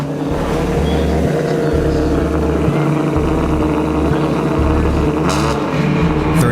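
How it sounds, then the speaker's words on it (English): Pastrana's Subaru rally car sits at the start line of a US rally run, its engine revved repeatedly in loud, rhythmic bursts that rise and fall between idle and high revs, close and continuous throughout. "He revs his engine to bring it up to temperature."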